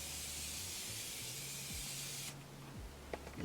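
Face setting spray hisses in a steady close burst for about two seconds, then cuts off, leaving only quiet room sound and a few faint handling clicks.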